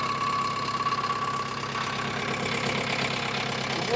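A JCB engine idles steadily with a continuous mid-pitched rumble and knocking throb, close and loud, with a loose silencer bolt.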